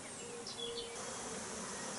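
Honeybees hum steadily at a hive entrance with a newly extended landing board, a continuous close insect drone with a few brief higher passing buzzes.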